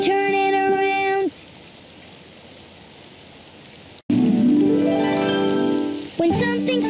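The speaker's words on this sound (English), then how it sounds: "It's raining outside." Steady rain hiss in a children's cartoon scene, a broad wash of falling drops that holds evenly between brief tonal musical phrases at the start and end.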